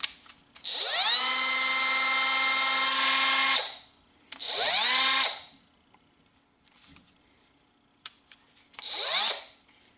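Power tool with an electric brake spinning up in a long whining run, then two shorter bursts, each winding down abruptly to silence as the brake stops it, close and clear with no talking.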